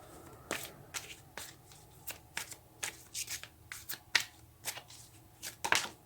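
Tarot cards being shuffled and drawn, a dry riffling and flicking of card stock in a series of quick, close, crisp bursts with short pauses between them, in an otherwise quiet room.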